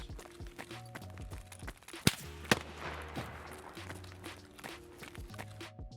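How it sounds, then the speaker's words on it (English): Two sharp, distant rifle cracks from a sniper scav in Escape from Tarkov ring out a moment apart over steady game ambience and footsteps, with no voices. "every time you go down here, a sniper scav will shoot you. Here's the audio for this."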